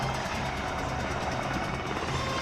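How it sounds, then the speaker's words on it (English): Red Bull helicopter rotors thrum during a closing maneuver at the Bethpage air show at Jones Beach, a steady, loud, rapidly pulsing beat that fills the clip. "That is an Aaron Fitzgerald Red Bull helicopter closing maneuver that we love to see"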